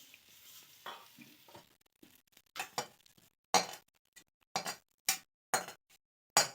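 Bursts of sizzling and scraping as fried cauliflower and potatoes are tipped from a hot pan, several short loud spurts separated by brief pauses, close by.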